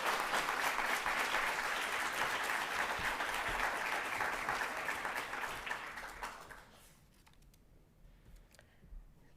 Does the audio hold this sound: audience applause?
yes